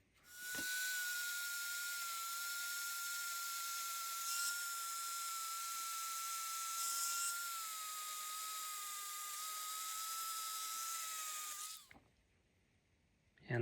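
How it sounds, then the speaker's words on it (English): Dremel rotary tool with a polishing wheel buffing a brass nut for a Fodera Victor Wooten Monarch bass guitar, a steady high-pitched whine held for about eleven seconds with slight pitch wavering, then cutting off. "I'm just going to use a Dremel and a polishing wheel"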